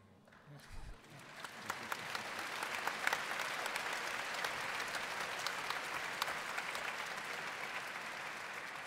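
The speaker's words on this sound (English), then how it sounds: "Let's give another round of applause for all our panelists." Steady applause from a conference audience after a panel discussion, swelling after the first second and continuing evenly throughout at moderate distance.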